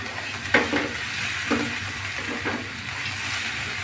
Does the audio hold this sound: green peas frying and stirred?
yes